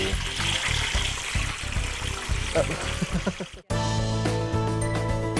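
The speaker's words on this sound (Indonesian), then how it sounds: "Goreng mujair selama 10 menit hingga daging ikan matang sempurna" Tilapia fish sizzles in hot oil in a pan, a loud, steady bubbling crackle that keeps going throughout, broken by a brief sharp dip before the frying resumes with a bright hiss.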